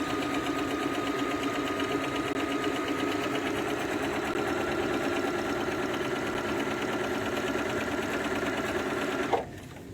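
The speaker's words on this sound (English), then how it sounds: "So I'm just going to sew 1/4 of an inch from that chalk line" A sewing machine stitching a quilt block a quarter inch from a chalk line with a scant quarter-inch foot, a steady fast mechanical whir running close and loud for about nine seconds before stopping abruptly.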